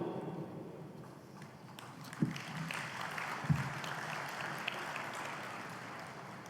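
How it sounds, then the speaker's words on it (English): A convention audience at the American Legion National Convention gives sustained applause, a soft, even wash of many hands clapping at a distance, with a few louder claps standing out. "I appreciate that applause."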